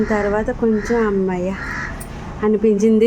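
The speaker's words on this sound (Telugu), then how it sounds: "చూడు కాకులు అలా అరుస్తున్నాయి." Crows cawing in the early morning outside a home, several near, harsh, repeated caws in short bursts, partly overlapping a person talking.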